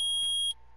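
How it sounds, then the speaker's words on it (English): A metal detector in the video game Phoenix Wright: Ace Attorney gives a loud, piercing electronic beep that holds steady for about half a second and then cuts off, leaving a faint hum. "It's beeping. The metal detector's found something."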